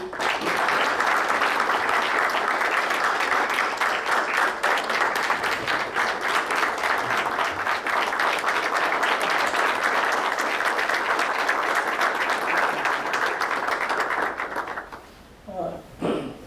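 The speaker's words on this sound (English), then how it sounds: "let us give a loud applause to Mr. Trivedi" Audience at a formal honouring ceremony gives loud applause for Mr. Y. P. Trivedi: sustained, dense clapping from a large crowd lasting about fifteen seconds, then stopping abruptly, followed by a few faint bumps and taps.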